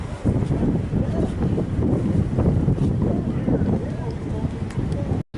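An antique powerboat's Ilmore 710 engine, about 710 horsepower, roars steadily and loudly throughout, mixed with heavy wind buffeting and rushing water, before cutting off abruptly at the end.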